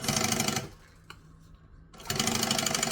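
A sewing machine stitches a mini crossbody bag, running loudly and rapidly, then pausing for over a second with a faint click before resuming at full speed.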